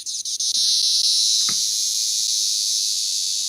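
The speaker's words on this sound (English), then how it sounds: "there's that damn cicada that was on my neck" A cicada gives a loud, shrill, continuous scream from very close by, a piercing steady drone after a few brief stutters at the start.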